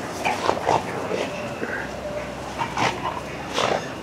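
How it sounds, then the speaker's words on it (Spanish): Small dogs outdoors at night whimper and let out a few short yips and barks in scattered bursts, close by, while someone talks in Spanish in between. "Y aquí los perritos me acompañan."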